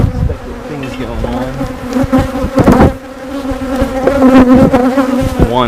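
Honeybees at an open hive during an inspection drone in a loud, dense, continuous buzz, close up, with individual bees whining past.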